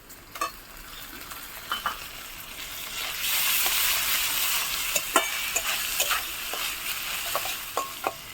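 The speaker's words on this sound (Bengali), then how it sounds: "পেঁয়াজের সঙ্গে আদা রসুনটা খুব ভালো করে ভেজে নিয়েছি।" Ginger-garlic paste fries with browned onions in a village kitchen pan, a constant loud sizzle broken by repeated sharp clinks and scrapes of a stirring spoon.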